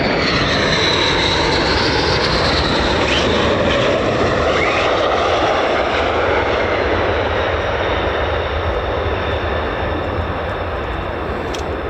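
F-35 fighter jets run their engines at RAF Lakenheath, heard from the far side of the base as a loud, continuous, rumbling roar that holds steady throughout.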